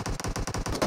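Rapid automatic gunfire from the PUBG Mobile battle royale game, a burst of about eight evenly spaced, close, punchy shots in under a second.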